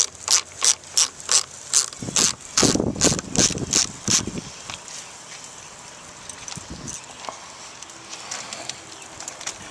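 A Phillips screw comes out of a Kia Forte door panel with a run of quick, close ratcheting clicks at first, then quieter fiddling and small handling noises.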